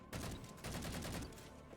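Rapid assault rifle fire from the Halo video game, a dense continuous burst of shots lasting nearly two seconds, loud and close with no talking over it.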